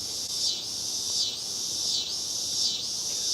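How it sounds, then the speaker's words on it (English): A loud, piercing insect buzz from a cricket or cicada swells and fades in regular waves about every three-quarters of a second, close by and with no talking. "this murder cricket over here, whatever it is, cicada. I can't even hear myself think."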